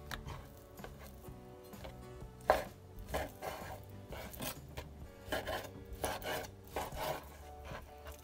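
A knife cuts a large piece of food in half on a wooden cutting board during meal prep, heard as close, quiet chopping taps and rubbing strokes with one sharper knock partway through.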